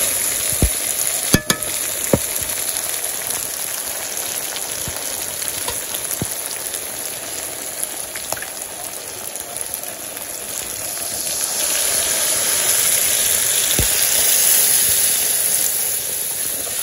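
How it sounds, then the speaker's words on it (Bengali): Water poured onto browned, well-fried meat in a village kitchen pan, setting off a loud, continuous hissing sizzle with steam, rising in intensity toward the end, with occasional clinks of a utensil. "জল দিয়ে দিন।"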